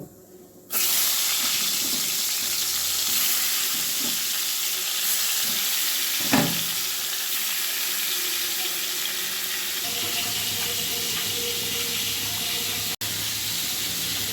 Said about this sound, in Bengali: এবার কড়াইয়ে সর্ষের তেল গরম করে নিয়ে আমি ভেজে নেব।